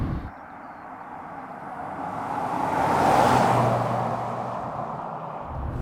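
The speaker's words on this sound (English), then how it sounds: "A very typical smooth V12 sound." A Jaguar X81 XJ12 with a smooth V12 engine on the move, heard from inside as a steady low drone with road roar that swells to a peak midway and then eases back, with no talk.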